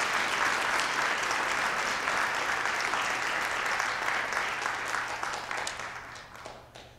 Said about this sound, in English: So another round of applause for our cast and staff.